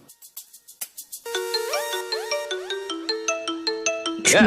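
A mobile phone rings with an incoming call: a bright melodic ringtone of repeating chimes plays in a steady rhythm, clear and close, with no voices over it.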